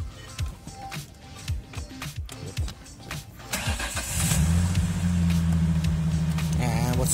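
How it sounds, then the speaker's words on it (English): A car engine cranks and catches with the parking brake set, then settles into a steady, fairly loud idle after a few seconds of clicks and handling sounds. "So now we're going to start the vehicle."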